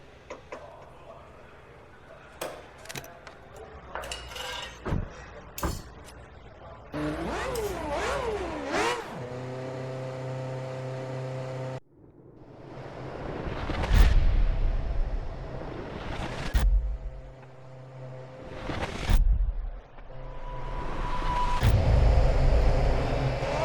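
A Formula One racing car in a video game for the 2010 Spanish Grand Prix fires up and heads onto the track, with ticking clicks, then rising revving engine whines and loud roaring passes building toward the end.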